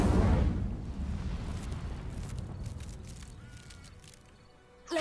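A burst of fire magic from the Incendio spell in Hogwarts Legacy: a loud, roaring whoosh at the start that settles into a steady, crackling flame hiss, fading gently before a short flare at the end.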